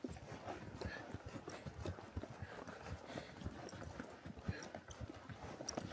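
A mule walks along a hot, dry cow trail in the wilderness, its hooves giving a steady, close clip-clop that continues throughout with no talking.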